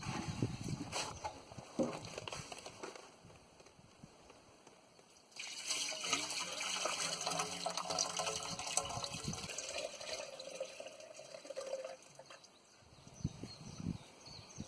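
Water pours into a container, a bright rushing fill that swells for several seconds, with earlier splashes and trickles before and after.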